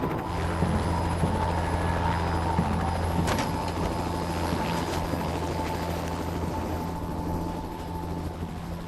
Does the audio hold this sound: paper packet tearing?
no